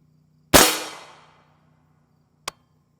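A single sharp rifle shot from a 10.5 inch 300 Blackout firing an M2AP load cracks close and loud, ringing out briefly before a small metallic click follows about two seconds later.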